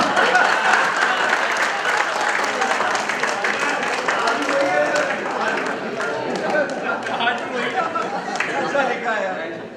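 An audience applauds at a conference event, clapping throughout with a hum of chatter and voices mixed in underneath.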